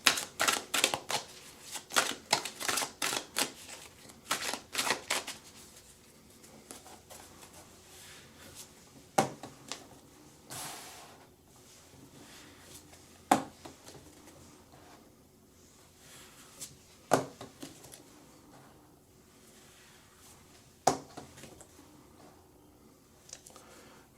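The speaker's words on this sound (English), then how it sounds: "So we're going to shuffle Influence of the Angels tarot deck." An Influence of the Angels tarot deck is shuffled by hand in repeated quick bursts of riffling and tapping, loud at first and then sparser and quieter, with no talk over it.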